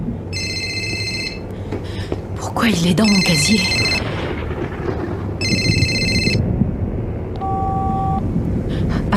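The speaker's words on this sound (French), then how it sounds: "Ça c'est Alexis, c'est son téléphone." A mobile phone rings from inside a school locker, its tone sounding in repeated bursts over constant background noise, with people talking over it.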